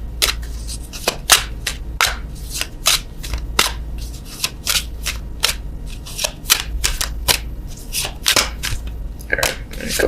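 Oracle cards being shuffled by hand during a love tarot reading, giving a steady run of crisp, close riffling snaps and slaps over a low background hum.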